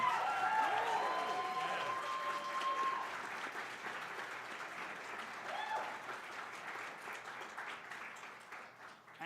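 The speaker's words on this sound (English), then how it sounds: "A huge round of applause for everyone here." An audience applauds at the GameCon 2025 awards ceremony, a dense, sustained wash of clapping that tapers slowly over about nine seconds, with a few tonal sounds and faint voices mixed in early on.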